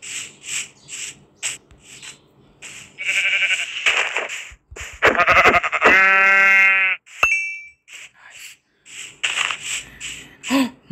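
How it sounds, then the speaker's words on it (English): Several Minecraft sheep bleats ring out amid rustling and crunchy game sound effects, one bleat long and loud, others shorter and spaced apart. "I just heard a sheep."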